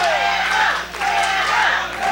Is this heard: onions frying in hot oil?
no